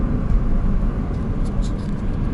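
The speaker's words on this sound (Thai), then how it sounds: "นี่กระบะซิ่งเต็มเลย" Modified racing pickup trucks on a road produce a steady, low engine rumble and road noise close by, with a faint voice murmuring underneath.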